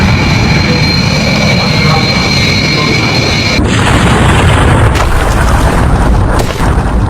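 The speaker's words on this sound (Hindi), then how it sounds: "विमान जैसे ही टेक ऑफ करता है रनवे से आगे बढ़ते ही फौरन देखिए क्रैश हुआ, इमारत से टकराया" An animated airplane crashing into a building just after takeoff from a runway: a loud, sustained jet-engine roar with a steady high whine that cuts off abruptly partway, followed by heavy booming rumble and crash noise that continues to the end.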